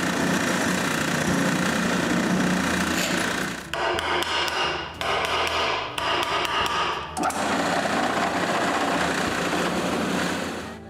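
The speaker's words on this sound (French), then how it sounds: "je perce des trous pilotes" A power drill bores deep pilot holes into a wooden post-mounting bracket, running loud and continuous with brief dips and restarts as the bit works through the wood.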